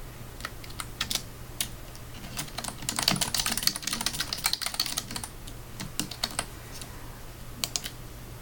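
Continuous typing of program code on a computer keyboard, with steady, irregular key clicks close to the mic and occasional denser flurries, and no one talking.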